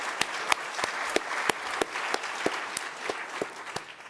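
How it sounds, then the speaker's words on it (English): A closing-session audience claps for the hosts in a moderate, fairly quiet round of applause. Distinct, louder claps cut through the steady patter at close intervals. "I want a special applause for Mette and for FAO for being host here"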